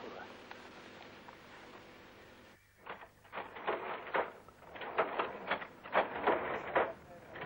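A printing press turning out a two-colour newspaper at a jungle camp, a machine built on site from an old Japanese printer's catalogue, clatters in a quick uneven rhythm after a steadier mechanical hum, close and fairly loud.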